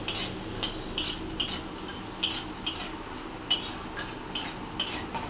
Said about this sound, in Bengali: একটু নেড়ে নিতে হবে।